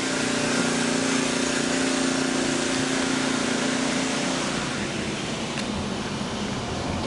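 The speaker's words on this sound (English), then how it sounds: "Generator's going." A generator runs steadily near a golf course road with branches down after a storm, a continuous close engine drone with a faint whine, no one talking over it.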